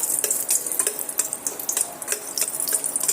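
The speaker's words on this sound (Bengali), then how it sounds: "এখানে তিনটে এলাচ আর নিয়েছি এক টুকরো দারুচিনি এটা কয়েক সেকেন্ডের জন্য একটু ভেজে নেবো" Three cardamom pods and a piece of cinnamon fry briefly in hot oil, giving a close, bright crackling sizzle with quick pops and flickers that stays busy across the short stretch.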